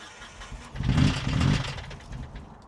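An abandoned screen-used Knight Rider 2000 movie car, not started in over 10 years, cranks and fires up with a rough, loud, clanking roar that swells for about a second and then fades, close by.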